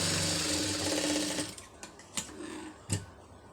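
A sewing machine stitches lining onto a puff sleeve with a close, steady mechanical whir that runs for over a second, then stops, followed by a few isolated clicks and knocks.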